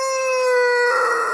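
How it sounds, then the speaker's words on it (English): A healthy rooster lets out one long, drawn-out crow, loud and close, with the call held steady and no voices alongside. "That's Dan. He's pretty long-winded. He's a healthy rooster"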